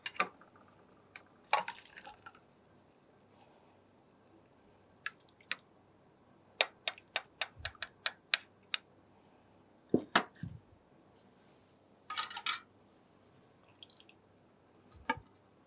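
Cooking water from boiled corn sprouts draining through a strainer, quiet scattered drips and small splashes, with a quick run of sharp drops in the middle and long near-silent gaps.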